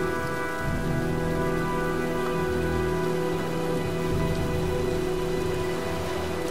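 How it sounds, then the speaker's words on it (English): Steady rain pours in the Heavy Rain video game, with a dense, continuous hiss of drops on surfaces under a low, sustained rumble of a coming storm, with no talking. "looks like a storm's coming"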